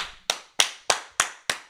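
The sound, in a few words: people clapping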